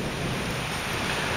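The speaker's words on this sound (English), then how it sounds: "Right now the winds are pretty good." Tropical storm winds from a hurricane in southern Alabama roar as a steady, loud broadband rush, with drizzling rain blended into the constant noise and no voices.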